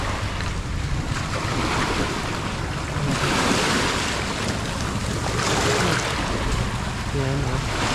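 Sea waves wash steadily against the shore in a loud, continuous roar with surges of surf and wind buffeting the microphone; a few voices are faintly heard beneath.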